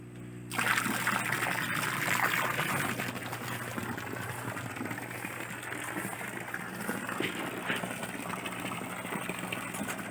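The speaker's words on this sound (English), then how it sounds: "is just run some water in here." Water starts abruptly into a tilapia tank that has a siphon problem and a leak, then runs as a continuous close trickle and splash over a low mechanical hum.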